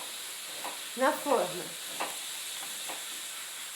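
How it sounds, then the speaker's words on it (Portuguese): A pressure cooker cooking beans gives off a constant faint hiss in the background, with brief kitchen handling noises and a short spoken phrase over it. "Esse barulho ali é da panela de pressão, tá? A gente tá cozinhando feijão."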